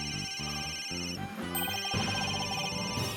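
Repeating electronic phone ringtone in Ace Attorney Dual Destinies, a bright melodic trill that cycles several times over a bed of game music, loud and continuous.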